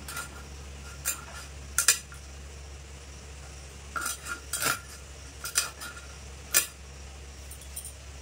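A knife cuts through the belly of a big, fresh pangas fish. Scattered sharp clicks and scrapes of the blade against the cutting surface come at irregular intervals over a steady low hum, with no talk.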